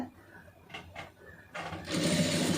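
Sewing machine stitching a blouse, a brief burst of rapid mechanical whirring that starts after a couple of soft clicks and runs on steadily to the end.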